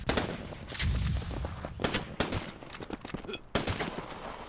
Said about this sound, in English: Oh, man, I got sniped.